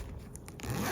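Short zip of a small zipper on a travel bag pocket, a quick rasping pull lasting under a second, close and clear with no talking.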